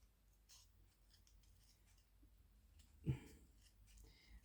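Scissors cut paper shapes for autumn-themed ATC cards, making soft, close snips and rustles with one sharper clack partway through, all very quiet.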